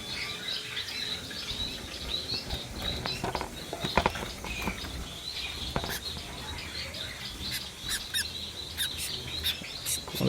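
Silver diamond firetail finch chicks chirping in a breeding setup, thin high calls repeating in quick irregular bursts over a soft background, with some rustling, no voices.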